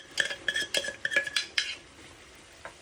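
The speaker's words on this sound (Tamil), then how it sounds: "சேர்த்து நல்லா கலந்துட்டு ஒரு கொதி வரும் வரைக்கும் மூடி விடுவோம்" Mutton curry masala is stirred with a metal spoon in a pressure cooker, a series of close clinks and scrapes against the metal over about two seconds. A single faint tap follows after a short pause.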